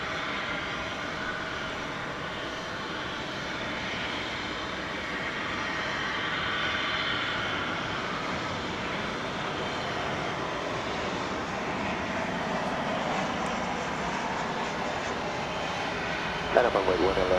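A United plane at DFW Airport makes a steady, broad engine roar that holds at an even level throughout, with a brief louder knock near the end.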